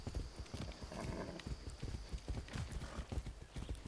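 Steady clip-clop of horse hooves at a brisk walking rhythm in the video game Far Cry 6, fairly close, with occasional faint snorts and a thin electronic tone in the background.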